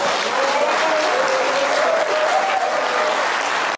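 An audience at a political debate bursts into applause, a dense, steady clapping crowd close and loud for a few seconds before stopping abruptly.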